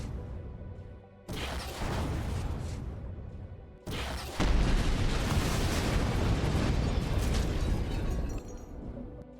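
Rocket launcher blasts slam against a turret in the Empyrion Galactic Survival game, heavy booming explosions with sharp onsets near 1 and 4 seconds, each followed by a long, loud rumbling roar that fills the clip.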